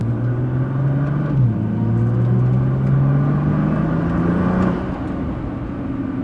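A Nissan R35 GTR accelerating, heard from inside the cabin as a loud, smooth engine drone that climbs in pitch, dips briefly at a gear change, keeps rising, then eases off near the end.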